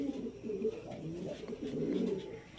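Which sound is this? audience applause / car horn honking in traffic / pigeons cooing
pigeons cooing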